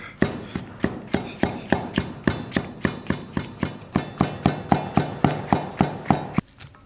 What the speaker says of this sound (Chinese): 然后咱们把香菇给它切成小片儿。